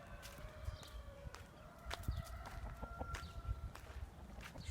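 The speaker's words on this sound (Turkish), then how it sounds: "Burada tavuk" Village chickens cluck in scattered, overlapping calls at a moderate distance, with a few sharper squawks over low outdoor rumble and no talking.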